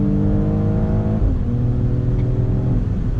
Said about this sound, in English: Get like a pop from the exhaust, which is wonderful